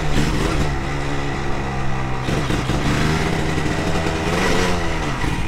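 A Yamaha DT 200 motorcycle engine runs steadily while riding, a loud continuous two-stroke drone with shifting revs and a slight dip near the middle, heard close without talk.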